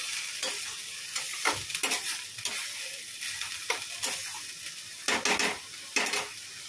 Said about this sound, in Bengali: আর এই থোড়টা ভাজা বসিয়েছি।